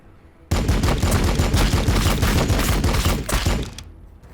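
Dense, continuous rattle of gunfire from a Warhammer 40,000: Battlesector battle, rapid overlapping shots like machine-gun bursts and a fusillade, loud and steady for about three seconds before tapering off.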